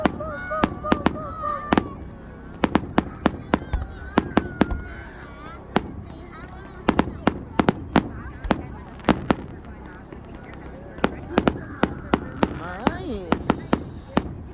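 Fireworks going off outdoors at a winter wonderland light display, dozens of sharp bangs and crackles in irregular bursts, with people talking and exclaiming between the blasts.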